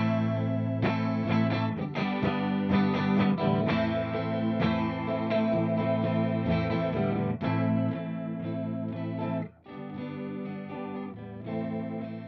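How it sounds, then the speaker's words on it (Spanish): Electric guitar played through a Seymour Duncan Catalina chorus pedal, a sustained run of strummed chords and notes with a shimmering modulated wash, steady and loud throughout with a brief dip near the end. "Si lo ponemos en soft, esto quiere decir que el momento de tocar es suave, el efecto va a entrar."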